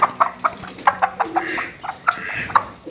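A broody hen makes repeated soft, throaty clucks in an uneven rhythm, close by, with faint rustling in the background.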